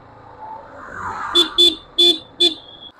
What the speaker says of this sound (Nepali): हजुरलाई यो हर्न बजाउने तरिका कस्तो लाग्यो